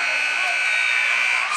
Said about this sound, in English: Oh, and it's stolen away by Burchard at the buzzer.